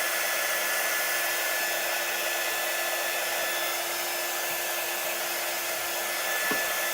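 A hair dryer blows continuously and loudly at close range while drying a chalk craft project, a steady broadband whoosh with no pauses and no speech.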